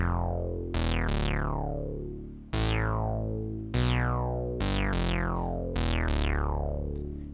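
Deep synthesizer bass notes, each starting bright and sweeping down as a resonant filter closes, several notes in a slow sequence with no talking.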